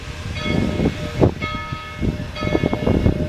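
A ride train rumbles and clatters as it crosses Dead Horse Canyon, with rhythmic rolling pulses close by and a bright bell-like ringing tone recurring above the rumble. There is no talk.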